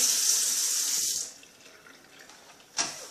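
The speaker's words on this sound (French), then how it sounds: "Je mets l'eau." Water runs from a tap into a container for hand-washing laundry, a strong close gush that cuts off, leaving faint trickling and a brief splash near the end.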